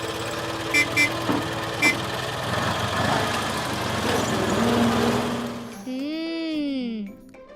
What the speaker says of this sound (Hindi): तो गाड़ी अब यहाँ पर आकर रुकी है।